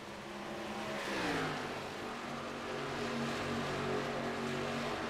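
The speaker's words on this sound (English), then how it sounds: "the iRacing.com Ford Mustang pace car pulls off into the safety of pit lane, and we are back to racing at the Auto Club Speedway" Race cars roar around the oval at Auto Club Speedway in the iRacing simulator after the Ford Mustang pace car leaves, a steady loud engine drone with shifting pitch from several cars passing close.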